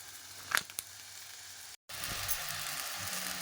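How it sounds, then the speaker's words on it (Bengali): Sesame papad frying in hot oil gives a steady soft sizzle, with a few sharp crackles near the start and a brief dropout midway. "এই যে তিলের পাঁপড়, এত টেস্টি। এটা আজকে ভাজা করব।"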